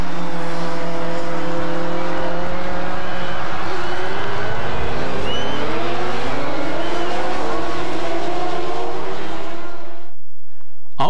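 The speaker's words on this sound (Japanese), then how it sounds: "青木は試験員の侵入で藤原の前に出るが、最終コーナーへのアプローチで加速が鈍り、藤原が並びかける" Superbike racing motorcycles scream along the track at a 1996 All-Japan Superbike race, heat two of round eight. Loud, close engines rise and fall in pitch as the bikes accelerate, then the noise cuts off abruptly near the end.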